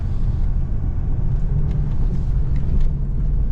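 A RAM TRX pickup climbs a steep desert sand dune, its engine giving a loud, deep, continuous roar that swells slightly near the end, heard close and alone.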